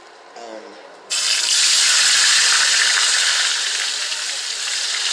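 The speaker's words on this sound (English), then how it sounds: "I know it probably didn't sound too good, but I'm sauteing it in the bacon grease" Onion sautéing in bacon grease for homemade potato soup, a loud steady sizzle that bursts in after a quiet second and holds close and hissing to the end.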